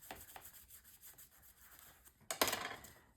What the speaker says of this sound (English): and then I'll burnish this down.